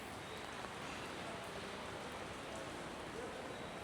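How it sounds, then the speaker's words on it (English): Steady rain falls in Son Tra, Da Nang, a soft, even hiss of drops on surfaces, continuous and moderately close with no pauses. "now it's raining"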